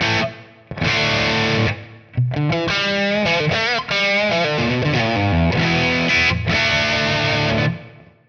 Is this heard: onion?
no